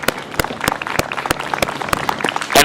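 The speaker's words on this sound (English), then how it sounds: "Let's give them a big round of applause." A crowd at a Poughkeepsie Pulaski parade festival claps outdoors for city police officers, scattered sharp individual claps over a looser background patter, with a louder burst near the end.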